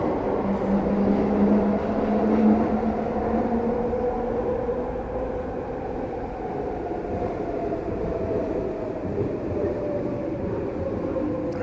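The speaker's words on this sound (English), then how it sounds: "Fuck those 2 trains." Trains rumble past continuously and loudly, a broad low roar with a slowly falling tonal whine running throughout, as two trains pass one after another with no voice over them.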